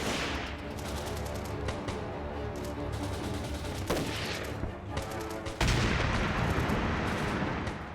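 Dense WWII battle at Brecourt Manor on 6 June 1944: continuous rattling gunfire and rapid bursts mixed with heavy artillery booms, loud and relentless, swelling into a harsher roar near the end.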